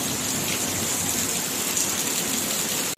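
Evening rain falling steadily, a loud dense hiss of drops on surfaces continuing throughout, with no voices.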